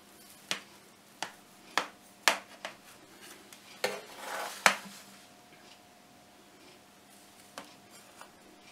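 A knife slices a freshly baked vanilla sponge cake: a series of sharp, evenly spaced taps as the blade meets the surface beneath, then a brief soft scraping swish and a few fainter taps, close and quiet.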